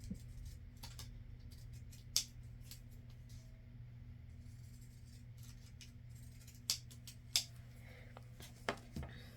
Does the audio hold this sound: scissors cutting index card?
yes